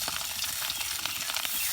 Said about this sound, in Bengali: আমাদের একটু ভেজে নেব মাছটা